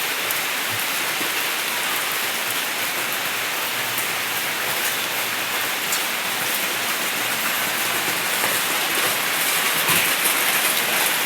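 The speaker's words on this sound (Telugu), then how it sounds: "ఈరోజు మరీ ఎక్కువగా ఉంది వర్షం అయితే." Heavy rain on a rainy day near a banana plantation pours down in a dense, steady hiss that stays loud and unbroken from start to finish, with no voices over it.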